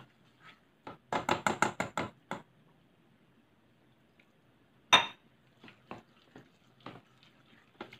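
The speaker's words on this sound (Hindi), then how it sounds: "ये देखिए, इसको अच्छे से मिक्स करना है।" Cake batter being mixed in a bowl, a utensil knocking and clinking against the side in a quick burst of about eight strokes, then scattered softer taps. The sound is close and there is no talking.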